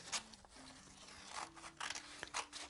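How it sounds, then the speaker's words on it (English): Scissors snip excess paper away from a cut-out beetle design, a series of quiet, close crisp cuts and short slides, irregularly spaced with small rustling between them. "Just cut off all the extra bits."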